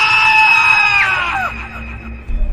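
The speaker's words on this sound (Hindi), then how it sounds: "चिलचिलाती धूप में चारों तरफ से दर्द भरी चीखें" A loud high-pitched wailing scream rises and then falls away over about two seconds, followed by a faint low rumble, used as a horror-story sound effect, with no speech.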